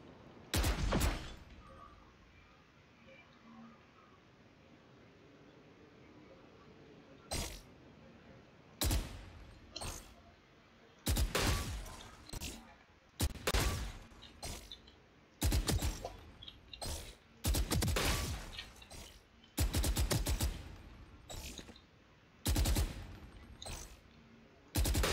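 Gunfire on the Valorant training grounds in a first-person shooter: sharp bursts of shots in clustered volleys separated by short quiet gaps, loud and close, with faint mechanical clicks between.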